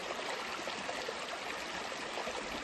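Forest stream flowing in the wild near Amarkantak, a steady close rush and trickle of water running continuously without pause, no voices.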